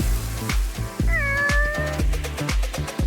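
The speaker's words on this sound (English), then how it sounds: "Come on, kitties, have a bite." Several cats meow in a cartoon scene over steady rhythmic background music, with one clear drawn-out meow in the middle standing out above the beat.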